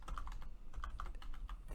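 Quick bursts of keystrokes on a computer keyboard, close and steady, a few sharper clicks standing out over a low background hum, with no one speaking.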